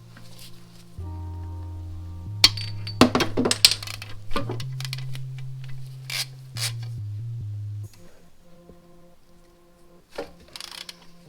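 A seized engine mount bolt on a BMW is worked with an E18 socket, giving close metallic scraping, clicks and sharp knocks in irregular bursts, with a low steady tone beneath and no speech.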